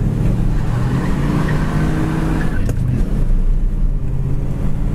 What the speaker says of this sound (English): Squeals of tires, second gear, 55-60.